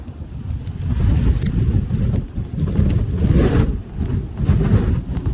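Strong wind roars and buffets the microphone on a hill path on Girnar near Junagadh, a loud continuous rush with gusting surges and no voices.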